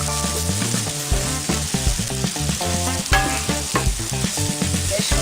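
Chopped onion, garlic and ginger fry in a pan, a continuous bright sizzle sitting under prominent rhythmic background music throughout.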